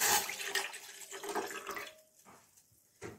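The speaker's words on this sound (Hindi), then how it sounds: "आधा गिलास दूध डालेंगे।" Half a glass of milk is poured into a pan of hot water for a herbal kadha, a soft, close liquid stream that trails off into a few faint splashes.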